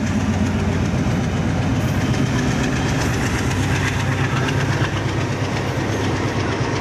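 A train rolls past on a nearby railway line, its steady rumble and rhythmic wheel clatter loud and continuous throughout, with an engine drone underneath and no talking.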